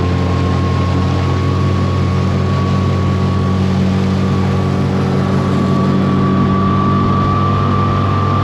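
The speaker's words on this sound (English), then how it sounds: "I'm using the petrol motor." A small boat's petrol outboard motor runs steadily while trolling, a loud, constant droning hum with a faint high tone riding over it, unchanging throughout and with no voices.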